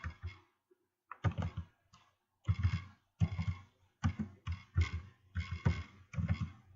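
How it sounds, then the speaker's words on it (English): Bursts of close computer-keyboard typing, clustered clicks in short rapid runs separated by brief pauses, fairly quiet with no voices. "Now what I'm doing right now is typing in 0 degree"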